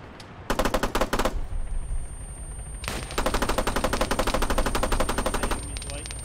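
Automatic gunfire rattles in rapid bursts during an Altis Life multiplayer game: one short volley, then a longer sustained string of shots, fairly loud over a steady background hum.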